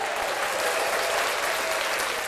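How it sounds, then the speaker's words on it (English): Applause effect fired from a soundboard button: a steady, dense wash of clapping and light crowd noise, loud and continuous for a couple of seconds with no talk over it. "I just pressed the applause button"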